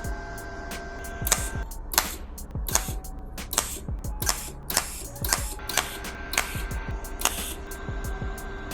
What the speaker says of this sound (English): I'm gonna see if I can cold tig these regular razor blades together